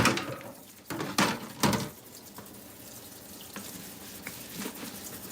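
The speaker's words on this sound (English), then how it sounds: "I'm going to wash the rice." Basmati rice is washed in water at a kitchen sink, with a few splashing and swishing bursts early on, then quieter trickling and sloshing, close and without talk.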